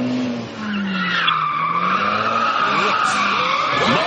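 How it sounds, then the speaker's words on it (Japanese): A car launches from a standstill with loud, sustained tire squeal and skidding for several seconds, engine noise underneath, recorded close during a stunt where the car slices a cucumber held on a knife blade. "今田辺の車が発進"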